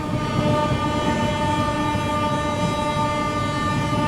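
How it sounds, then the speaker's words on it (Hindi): 12487 Jogbani–Anand Vihar Seemanchal Express passenger train running near Aligarh Junction, a loud, steady rolling roar with a sustained tonal hum or horn layered over rumbling wheels, close and unbroken. "ट्रेन अपनी अभी थोड़ी ही देर में पहुंचने वाली है अलीगढ़ जंक्शन"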